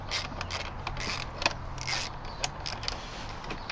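Socket wrench working on bolts of a bracket held by nuts on the back, giving faint mechanical ratcheting clicks and creaks with a few sharper ticks over a steady low hum.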